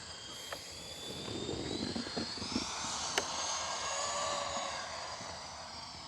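An FMS Avanti S V3 70mm electric ducted-fan model jet makes a low landing pass with full flaps, a steady whine that swells and shifts pitch as it passes at moderate distance, with a few faint clicks and no talking.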